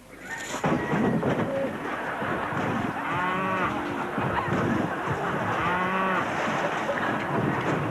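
Cows mooing repeatedly in long drawn-out calls, loud and close, with farm background noise throughout and several lows overlapping.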